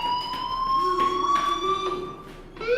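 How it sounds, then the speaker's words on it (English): A fire alarm blares inside a school in the video game Life is Strange, a loud sustained electronic tone with steady harmonic overtones that keeps sounding without pause before shifting pitch near the end. "Hey, do you hear that fire alarm?"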